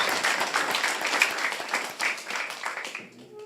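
An audience in a temple gathering for Gita Mahotsava claps loudly in welcome, a dense, continuous wash of applause that tapers off near the end.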